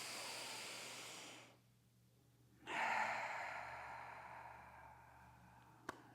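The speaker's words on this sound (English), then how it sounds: "Exhale out the mouth, let it go." A long, soft exhale out through the mouth during a standing somatic breathing practice, a breathy hiss that fades out, then after a short pause a second fuller breath that slowly tapers away.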